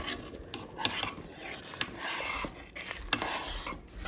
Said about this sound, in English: I'm gonna go ahead and actually mix this up real quick